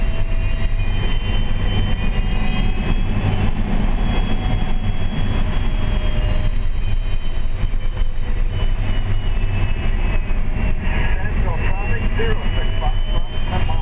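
Glider in flight, with a steady, loud rush of airflow filling the cockpit the whole time and faint voices underneath.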